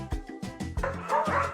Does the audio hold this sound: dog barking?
yes